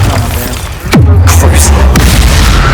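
A Bombarda blasting spell goes off in Hogwarts Legacy with a sudden loud, deep boom that rumbles on heavily for a couple of seconds, close and dominating.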